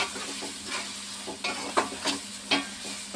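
Onions and tomatoes with chilli paste fry in a pan for a fish curry, a soft sizzle running under repeated scraping stirs of a spoon, close and fairly quiet.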